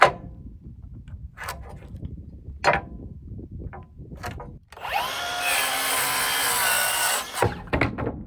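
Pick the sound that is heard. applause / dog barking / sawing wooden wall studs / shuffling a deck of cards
sawing wooden wall studs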